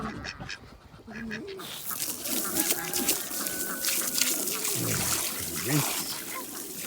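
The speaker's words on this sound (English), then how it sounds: "Hello little duck, how are you?" Domestic ducks quacking on a farm, several close, repeated calls over a noisy wet background with trickling water.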